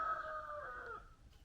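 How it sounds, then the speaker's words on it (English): A single drawn-out rooster-like call from backyard chickens, faint and somewhat distant, rising then trailing off over about a second, with quiet ambient noise around it. "The chickens are happy."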